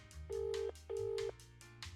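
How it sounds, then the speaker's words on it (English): A British-style telephone ringtone in a video game rings in two clear, steady double-burst tones separated by a short gap, with soft game background sound beneath and no speech. "They got the British ringtone."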